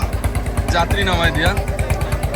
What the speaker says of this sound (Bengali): এই যে ট্রলারটা সাইডে যাইতেছে